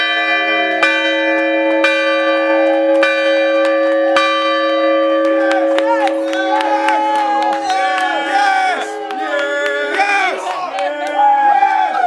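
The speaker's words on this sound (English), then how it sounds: "We're ringing the bell today" A large bell at Auburn Football rings repeatedly with long, sustained metallic tones that build into overlapping clangs, loud and close, while a crowd cheers and shouts underneath.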